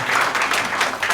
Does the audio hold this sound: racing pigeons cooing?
no